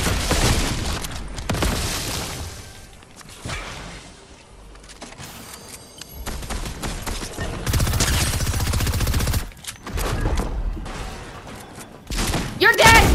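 Bursts of gunfire in a Fortnite match, loud shots and impacts coming in uneven clusters, with voices talking excitedly over them.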